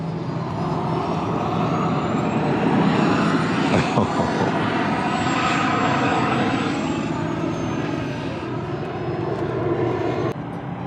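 A large 40-pound model aircraft roars on takeoff, its engine loud and steady with rising and falling pitch as it passes nearby.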